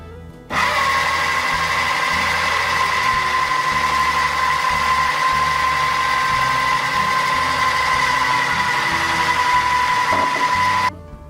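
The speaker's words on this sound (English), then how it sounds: "while the food processor is running, I'm gonna add 2 tablespoons of the limeade to it" A food processor blends margarita pie filling made with limeade in one loud, steady motor whir that runs for about ten seconds, then stops abruptly, with no talking over it.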